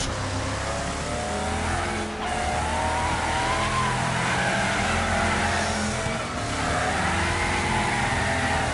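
Race cars in the video game Wreckfest roar through a lap, engines droning and shifting in pitch continuously with brief dips as gears change, loud and constant with no voices.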